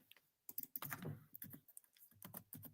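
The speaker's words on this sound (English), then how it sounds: "if you type in the words phi and pi" Bursts of quick typing on a computer keyboard, close and fairly quiet, with a brief pause near the start and clustered keystrokes after, no voice over it.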